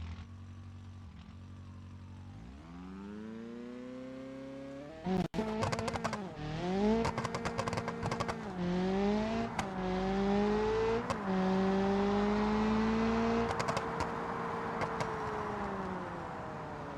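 A manual-transmission car engine in a racing video game revs and accelerates through gear changes, each rising pitch sweep dropping back at a shift, with a sharp impact around five seconds.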